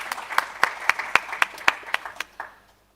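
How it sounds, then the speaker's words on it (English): A small audience at a regional health conference in Eastern and Southern Africa claps in a few sharp, distinct beats that quickly fade to silence, close and fairly loud. "let's give a round of applause."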